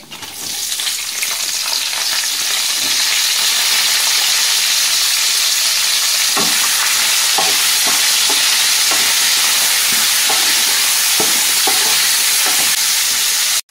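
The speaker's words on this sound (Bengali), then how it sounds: "ফোড়নের গন্ধ ছাড়লে আমি দিয়ে দেবো কুচিয়ে রাখা পেঁয়াজ" Chopped onion hitting hot oil spiced with bay leaves, a loud, dense, continuous sizzle with scattered pops and stirring scrapes, steady throughout with no talk.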